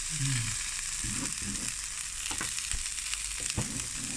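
A crispy Thai mussel pancake fries in a pan over a gas flame, giving a steady, close sizzle with occasional scraping stirs.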